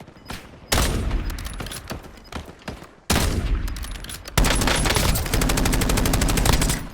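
Rapid automatic gunfire from the video game Call of Duty Warzone comes in loud, dense bursts that start and stop abruptly, with a long sustained volley at the end and quieter game ambience between.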